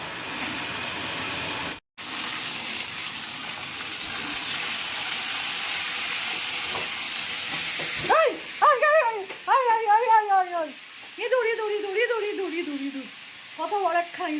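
Aloo chorchori, a potato curry seasoned with hing, sizzles loudly and steadily in a pan, a dense close hiss that continues under a voice talking in the second half.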